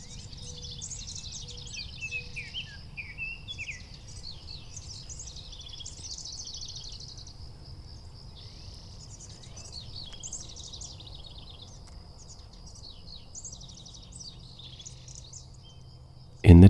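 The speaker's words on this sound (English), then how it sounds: "Listen for a different call of a different bird." A varied chorus of birdsong fills the air with overlapping chirps, trills and whistles above a low ambient hum, ending with a sudden loud thump.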